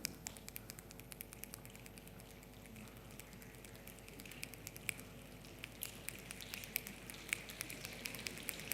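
Scattered light finger taps and snaps from an audience imitating light rain patter irregularly like fine rain, quiet and continuous with no voices.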